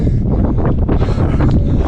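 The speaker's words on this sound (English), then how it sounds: "Shame so windy today." Strong wind near the pyramids outside Khartoum, Sudan buffets the microphone with a loud, continuous roar and gusty rumble, no voices present.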